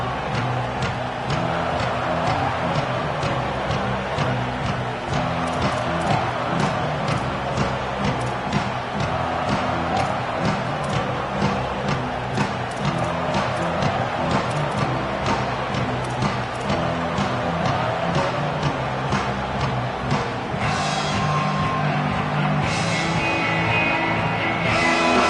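A college football stadium crowd roars in a dense, steady wall of noise that holds loud and unbroken throughout, with no single voice standing out.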